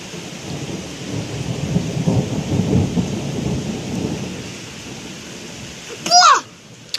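Low rumbling thunder rolls through a thunderstorm over a steady wash of rain, swelling in the middle before easing, then a brief loud rustle or knock near the end.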